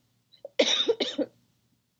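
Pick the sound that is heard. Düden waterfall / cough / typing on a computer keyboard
cough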